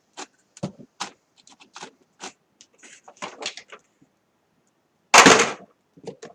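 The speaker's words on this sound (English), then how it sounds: "I just dropped all my paste colors." Small paste paint containers clatter and tap in scattered bursts, then one loud crash of several falling together, followed by a few light knocks.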